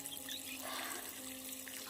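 Water trickles faintly and steadily around the base of a mango tree as it is watered outdoors, a soft continuous dribble with no talk.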